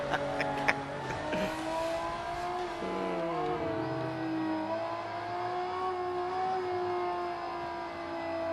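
A car engine revs and idles on a keynote stage at CES 2005, a steady droning hum with rising and falling pitch sweeps, loud and continuous for several seconds with no talk over it.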